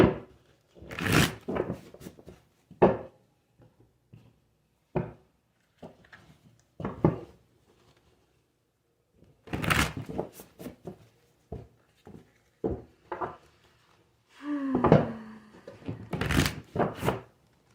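Tarot cards shuffled by hand in repeated short bursts of riffling and thumping against a surface, close and fairly crisp, with pauses of near silence between bursts.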